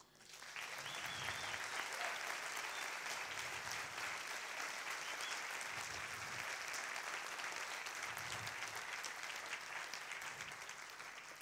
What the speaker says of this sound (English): So a warm applause for our friend Jon Lansman.